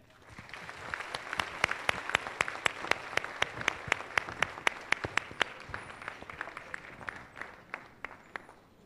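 Audience at a kindergarten orientation applauds after a student's singing, sharp distinct claps in a fairly sparse, rhythmic patter over a soft crowd wash, tapering slightly toward the end.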